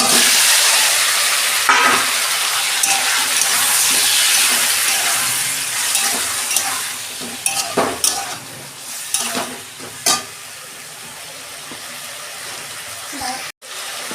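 Ginger and vegetables for a Bengali vegetarian curry sizzle steadily in a pan, with clanking stirs growing more frequent toward the end. The frying is loud and close, and a voice speaks briefly.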